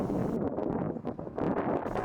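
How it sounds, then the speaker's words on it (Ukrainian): Wind gusting at the Kyiv Pechersk Lavra bell tower, low rumbling buffeting noise that swells and dips in short bursts across two seconds. "Можна чути, що того дня було доволі вітряно, принаймні на самій дзвіниці."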